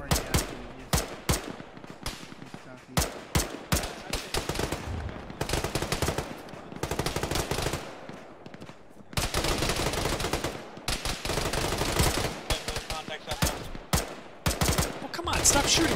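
Gunfire in a ShackTac firefight in a military video game: repeated close rifle shots and bursts, some sustained automatic stretches, loud and sharp, with brief gaps between volleys.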